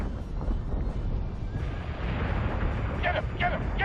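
Naval cannon fire in Battlestar Galactica Deadlock, a low rumbling boom that swells under a windy rush, with shouted voices breaking in near the end.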